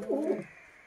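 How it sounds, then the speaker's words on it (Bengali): A male Madras pigeon gives a soft, brief coo, one low throaty burst close by that fades quickly into quiet. "নর পায়রা"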